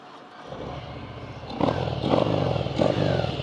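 A Harley-Davidson Softail Fat Bob motorcycle engine rumbles nearby, idling low and then swelling in two short throttle blips with a deep, loping exhaust note.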